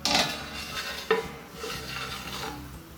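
Metal pot lid set down over a simmering fish curry, a short clink of cookware near the start and a sharper knock about a second in, then faint kitchen rattles and low bubbling.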